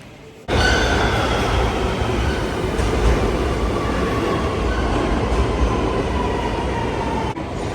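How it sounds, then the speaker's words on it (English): A subway train bound for the World Trade Center rumbles into the station, loud and close, a sustained roar of wheels on rails with faint squeals, ending abruptly. "let's wait for the train now"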